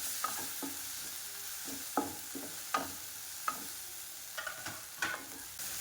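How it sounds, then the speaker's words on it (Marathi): Pasta masala with green chilli pieces and ground coriander frying in a pan, a low sizzle broken by repeated scraping strokes and sharp spoon knocks against the pan, close and without voices. "फ्राय चांगला झाला आहे"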